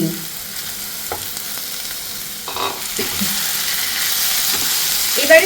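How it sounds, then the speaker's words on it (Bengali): Prawns fry in a pan with spice masala, giving a steady sizzle with a few scraping stirs and clinks, moderately loud and close, with no talking. "চিংড়ি মাছ দিয়ে পুরো মশলাটার সাথে কিন্তু খুব ভালো করে ভেজে নিতে হবে"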